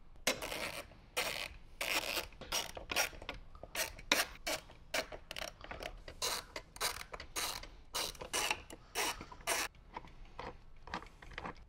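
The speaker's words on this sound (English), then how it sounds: "Take a 7/16 socket and remove the three bolts" A ratchet wrench with a 7/16 socket loosens the bolts on the speaker pod of a 2014 or later Harley-Davidson, giving quick, close clicking bursts in an uneven rhythm with brief gaps, and no voices.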